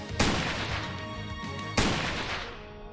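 Two heavy sniper rifle shots in the video game StarWard, each a sharp loud blast with a long rumbling tail and a ringing electronic tone between them.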